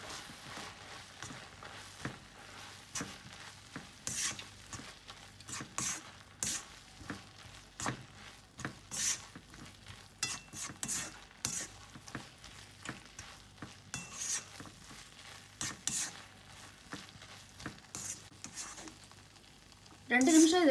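Bread upma masala stirred while frying in a pan, soft sizzling beneath a steady run of spoon scrapes and taps against the pan, close and fairly quiet, with a sharper clatter at the very end.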